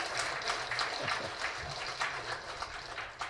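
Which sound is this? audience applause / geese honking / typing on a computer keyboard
audience applause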